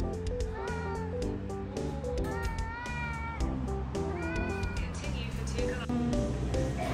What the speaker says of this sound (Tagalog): laki ng pusa, guys.